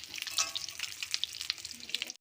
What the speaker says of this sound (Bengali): আলুর মধ্যে একটু অল্প নুন ও হলুদ দিয়ে আমি ভেজে নেবো